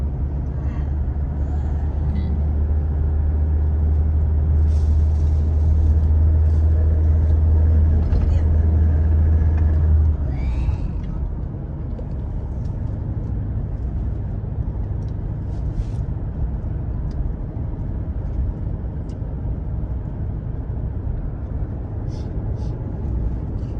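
Vehicles rumble past on a Thai mountain road climbing the Phu Phan range, a heavy low engine drone for the first ten seconds then a steadier, softer traffic hum.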